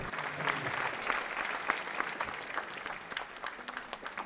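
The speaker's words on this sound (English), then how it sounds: "How about another round of applause for the Glendale High School a cappella choir?" Audience applause for the Glendale High School a cappella choir at an Armenian Genocide commemorative event, a full, steady crowd clapping with a few sharper individual claps standing out, no talk over it.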